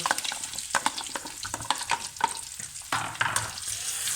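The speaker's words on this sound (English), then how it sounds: "So we're going to let these sizzle for a few minutes." Chopped potatoes sizzle and crackle in hot peanut oil with toasted fennel seeds, a steady close-up fry broken by sharp pops and stirring clatter.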